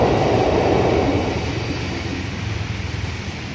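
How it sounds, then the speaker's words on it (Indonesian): A train rumbles past on the railway beside the Kali Bekasi Monument in Bekasi, a loud, steady roar and rattle that fades slightly over time. "Agak berisik karena ini di samping rel kereta."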